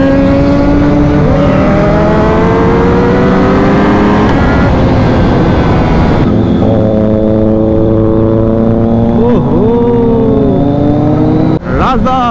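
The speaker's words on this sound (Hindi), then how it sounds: "This is the ZX6R with aero exhaust guys." A 2024 Kawasaki ZX6R fitted with a full-system Arrow exhaust revs loudly and close by. The engine holds a sustained roar whose pitch repeatedly climbs and dips, then cuts sharply near the end.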